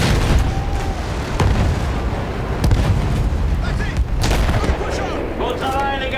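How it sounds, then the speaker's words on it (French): German artillery fire in the World War I shooter Battlefield 1, rumbling booms and sharp blasts landing over a battlefield, a loud, continuous barrage with scattered cracks, under faint battle chatter. "Et voilà l'artillerie allemande."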